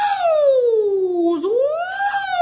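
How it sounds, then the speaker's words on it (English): A siren sound effect plays loud and close, a single wailing tone that sweeps down slowly, then rises again in a smooth continuous arc. "Let's play the sirens for first time callers."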